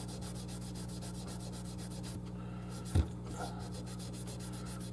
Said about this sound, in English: I do still go over back over it and polish it up a little bit with the sander